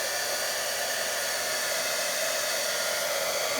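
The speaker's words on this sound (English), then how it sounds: "It's like a little desk vacuum cleaner." A small desk vacuum cleaner used during a paper gift-bag craft project, its motor giving a steady, loud, high-pitched whir that runs unbroken throughout with no talking.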